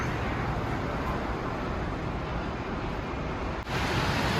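Continuous rushing wind noise buffets the microphone, broad and steady, with a brief dip near the end before the roar resumes.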